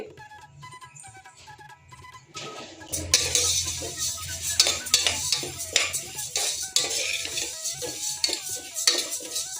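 Moong dal is dry roasted in a pan without oil. A utensil scrapes and clinks against the pan in a steady run of close strokes that start abruptly after a quieter opening, with no talking.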